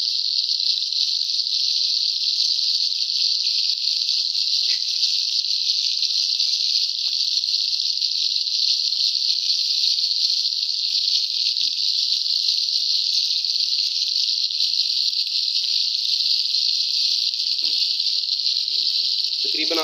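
Chicken shashlik sticks frying in a pan, giving a steady bright sizzle that holds evenly from start to finish at close range.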